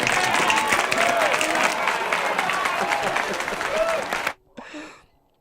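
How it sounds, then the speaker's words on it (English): Applause from an audience of contest trainees, a dense burst of clapping that holds steady for about four seconds and then stops abruptly, followed by a brief faint voice. "Let's give yourself a round of applause."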